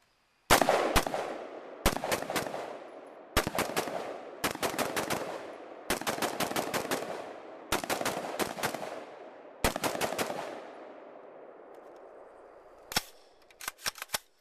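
An M16A1 rifle being test fired outdoors in several loud, rapid bursts of gunfire separated by short pauses, each burst a string of sharp close shots with ringing echo, followed by a few softer clatters.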